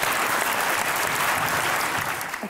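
A studio audience on a talk-show interview set breaks into loud, dense applause that fills the whole moment, steady throughout and fading slightly at the end.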